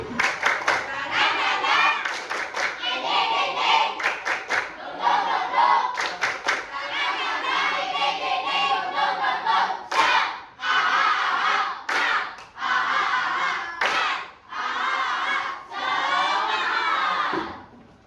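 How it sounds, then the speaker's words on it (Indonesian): Children in a classroom perform a "tepuk semangat" spirit-clapping chant, loud rhythmic hand claps in bursts mixed with shouted voices, filling the whole stretch with short gaps between phrases. "Sebentar lagi kita tepuk semangat ya. Tepuk semangat baru."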